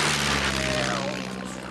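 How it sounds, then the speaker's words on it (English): A fixed-wing propeller airplane drones loudly and steadily as it comes in to land, its engine roar filling the whole clip and easing slightly toward the end. "I'm going to land this plane."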